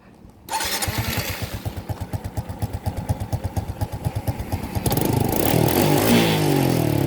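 A Suzuki Raider J 115 Fi motorcycle engine, repaired after a stalling fault, starts up and idles with a rapid, even putter, then revs up louder toward the end without dying.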